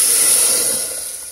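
Cooked black bean dal poured into a hot tempering of oil, garlic, coconut, coriander and curry leaves in a village kitchen, giving a steady loud hissing sizzle that eases slightly toward the end.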